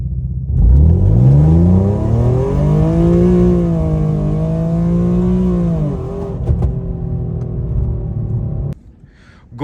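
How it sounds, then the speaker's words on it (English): A tuned 2015 Infiniti Q50 with simple bolt-ons accelerates hard from 0 to 60, its engine note climbing loudly through the revs, dipping at a gear change, then cutting off near the end. "0 to 60 video for the 2015 Infiniti Q50 tuned and with just simple bolt-ons."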